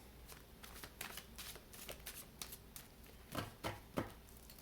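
Tarot cards being shuffled by hand, soft rapid riffling and flicking bursts in an irregular rhythm, ending with three firmer slaps, close but quiet with no talking.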